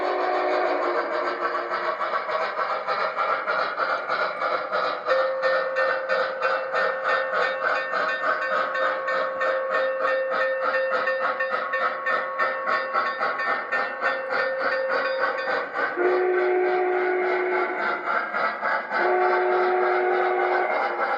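A model train on a large layout runs steadily for a long stretch with a continuous rhythmic clatter, while sustained whistle tones rise and shift partway through.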